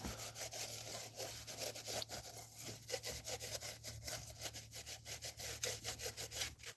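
Scraping and sanding old head gasket residue off the engine surface of a GM 4.3L V6 in a 1996-2005 Chevy Astro, a steady close rasping rub in quick repeated strokes over a constant low hum.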